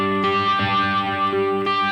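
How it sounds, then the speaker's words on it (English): Electric guitar run through a phaser with stereo delay on a Harley Benton DnaFx Git Pro modeling unit, sustained chords swirling with a sweeping, echoing shimmer, loud and continuous for about two seconds, no talking. "What I like the phaser for is sometimes with a little bit of delay, stereo delay."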